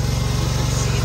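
A golf course greens mower running steadily while cutting the greens, giving a close, even engine drone with a faint regular pulse and no speech.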